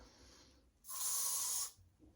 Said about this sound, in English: I'm going to hairspray this piece down